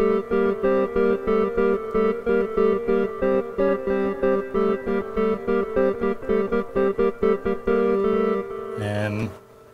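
A Moog One synthesizer plays a single layer of its patch, a bright harmonically rich tone pulsing in a steady rhythmic pattern over sustained low notes, close and alone before a brief pitch-bent swoop at the end.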